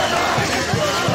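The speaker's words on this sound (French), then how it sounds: "C'est une foule impressionnante," A huge, dense crowd fills Tshikapa airport to welcome the UDPS secretary general, a steady roar of many voices with faint rhythmic thumps beneath it.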